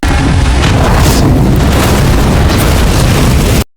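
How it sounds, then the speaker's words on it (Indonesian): A loud, sustained blast from a film action scene, following a car chase and gunfire, roars as one continuous boom with heavy low rumble for over three seconds before cutting off abruptly. "saat Anya yang melihat ledakan itu"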